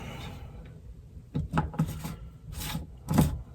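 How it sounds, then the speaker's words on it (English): A lid being screwed down onto a container holding a thick banana egg cream shake, giving a few short close scraping, rubbing twists in quick bursts with pauses between them and no talk. "screw the lid down on it"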